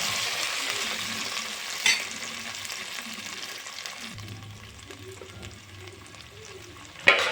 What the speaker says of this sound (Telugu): లైట్గా పసుపు ఫ్రై అయ్యాక కట్ చేసి పెట్టుకున్న ఆలు ముక్కలు వేసుకోండి.